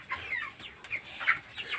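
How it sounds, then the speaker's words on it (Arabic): Lively farm chickens on an organic feed program cluck in a quiet run of short, soft calls that rise and fall at close range, with no talk. "ما شاء الله فراخ حيوية ونشاط زي ما انتم شايفين كده"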